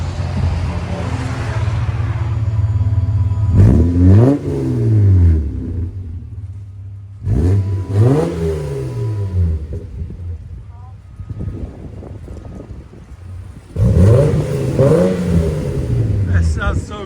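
A 1997 Lexus LX 450 4.5L inline-six with Borla exhaust and resonator delete blips and revs in several separate bursts, deep and rumbling between them, loud and close with some wind noise and voices.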